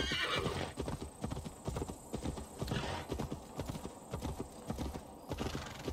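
Hooves of a galloping horse in Assassin's Creed Valhalla pound in a fast, steady rhythm, loud and close, with a brief whinny mixed in and no talking.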